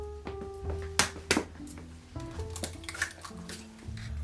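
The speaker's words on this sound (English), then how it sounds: "I am going to start putting my eggs in first into the blender" Eggs are cracked into a blender jar: several sharp taps and cracks against hard surfaces, a few clinks of shell and glass, with wet squishy sounds between, close and moderately loud, no talking.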